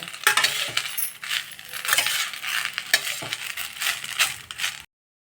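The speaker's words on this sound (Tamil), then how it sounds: "முருங்கைக்கீரையெல்லாம் நல்லா கிறிஸ்பாக வறுத்தாச்சு" Moringa leaves dry-roasting in a pan, giving a steady crackling rustle with repeated scraping and clinking stir strokes, close and fairly loud, without talk.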